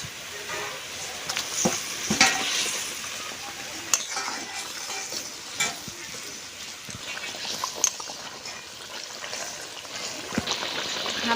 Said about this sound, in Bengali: ঝোলটা ফুটে উঠেছে, ভেজে রাখা শোল মাছগুলো দিয়ে দেবো।